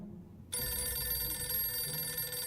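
Radio tuning in the RimWorld video game that rings like a telephone bell, starting abruptly and ringing steadily and loudly to the end, with no talk.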